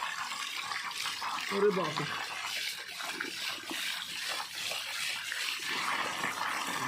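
Hot water pours and splashes for a bath outdoors in a village on a cold winter day, a steady running stream with a man exclaiming over it.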